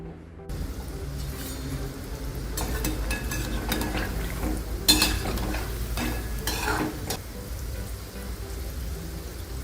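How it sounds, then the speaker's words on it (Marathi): Kokani-style khava-like boras fry steadily in oil over a low flame, a continuous close crackling sizzle with occasional louder bursts and stirring scrapes, no voices. "गॅस बारीक ठेवूनच आपल्याला हे फ्राय करायचे."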